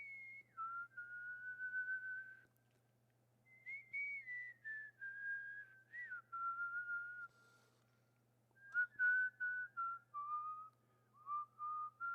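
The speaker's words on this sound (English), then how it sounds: "That might be the best I've ever whistled that." A person whistles a tune solo during a high-stakes poker tournament stream, with clear melodic phrases in three bursts separated by short pauses, close and fairly loud over a steady low hum.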